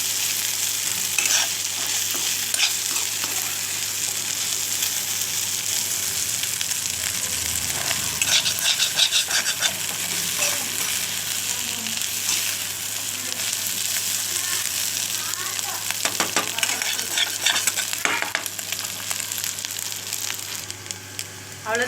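Dried anchovies (nethili karuvadu) frying and being stirred in a pan, giving a steady crackling sizzle with intermittent scraping stirs throughout, moderately loud and with no talking.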